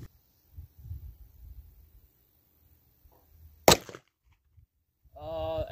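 A single sharp, loud gunshot from a Smith & Wesson Model 13-2 revolver firing a .38 Special round-nose bullet during a card-splitting trick shot, standing alone amid quiet low rumble, followed by a brief voice.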